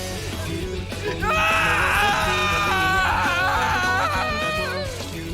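Anguished, wailing screams from the character Ishimaru in the English dub of Danganronpa: The Animation rise and waver over a low background for several seconds, loud and close, sounding strained and desperate.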